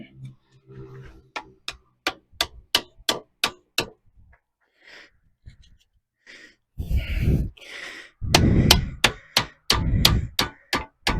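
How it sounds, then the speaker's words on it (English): A hammer strikes a metal part from a Chevy Firenza held in a vise. The blows come as a quick, even series of sharp clanks, then pause for breathy noises and resume in louder strikes. "We quickly just take a hammer and curve this back end a bit in my trusty vise."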